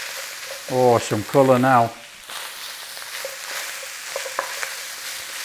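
Beef and peppers stir-frying in a hot pan, a steady close sizzle running throughout with small crackles and stirring clatter, as someone speaks briefly near the start.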